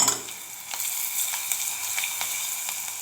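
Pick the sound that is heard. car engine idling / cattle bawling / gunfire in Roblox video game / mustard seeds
mustard seeds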